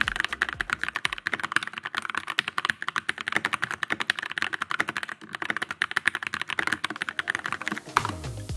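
Rapid, steady typing on a Keychron K4 mechanical keyboard with brown switches, close up and alone, each keystroke a crisp tactile clack in a continuous run.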